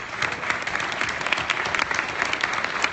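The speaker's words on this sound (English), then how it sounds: "So I would like to give you guys a round of applause." Steady applause from an audience fills the whole stretch, many hands clapping at once at an even, sustained level.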